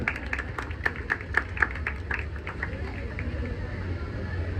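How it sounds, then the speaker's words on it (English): Audience applause at a school farewell prize-giving, where a house is honoured for winning the sports championship: scattered, uneven claps over a steady room murmur, moderately loud and fairly close. "give them a big round of applause"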